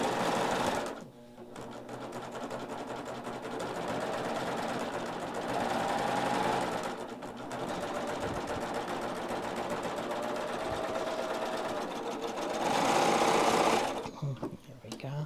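A serger runs through long quilting passes, guided along a row of stitching with a quilting arm, giving a steady close whirring chatter with brief pauses and speed changes and no talk over it.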